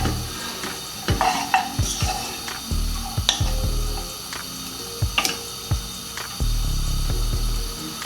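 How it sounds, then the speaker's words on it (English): Leeks sauteing in unsalted butter in a pan, a low steady sizzle with repeated stirring scrapes and clinks of a utensil against the pan, close and moderately loud. "And then we'll just saute those off."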